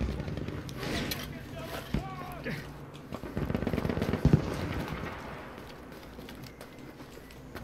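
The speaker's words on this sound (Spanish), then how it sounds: "me están disparando de otro lado" Gunfire in the video game Battlefield V: scattered shots and bursts crackle through a busy battle mix, with a louder cluster of shots around the middle, while someone talks over it.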